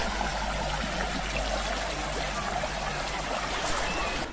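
A river flowing through the steep wooded Rivelin Valley, heard from a bank too steep to reach the water, gives a steady broadband rushing and trickling that holds evenly throughout without talk.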